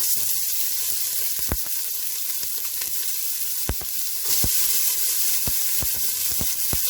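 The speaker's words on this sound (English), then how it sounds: "so that you guys can hear the sizzling sound that the onions should make when they hit the hot pan" Onions sizzling in olive oil in a hot pan for Greek green beans, a steady bright hiss with occasional sharp crackles and pops, close and alone without talk.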